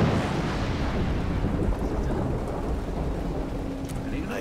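Rain and thunder in the video game Road 96: a dense, loud wash of rainfall with deep rolling thunder rumbling beneath it, steady throughout.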